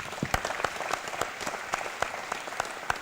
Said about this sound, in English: can I get you to applaud our fantastic panel